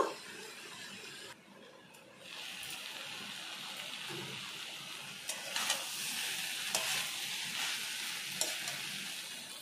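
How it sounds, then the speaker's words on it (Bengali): Mixed vegetable curry with fish oil is stirred in a pan, a continuous soft sizzle with intermittent scraping and clinking stir strokes throughout. "এইভাবে কয়েকবার আমি নাড়াচাড়া করে নেব।"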